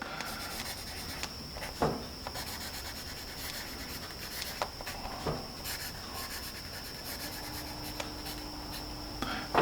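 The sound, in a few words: pencil writing on paper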